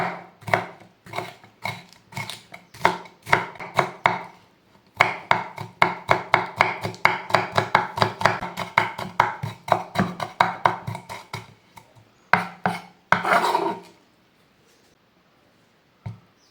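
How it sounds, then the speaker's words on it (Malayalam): Half a capsicum being finely chopped with a knife, a long run of sharp, rapid blade taps on a board in quick even bursts with short pauses, close and alone, trailing off into silence near the end. "പകുതി മതി കുനുകുനാണ് അരിഞ്ഞെടുക്കാം"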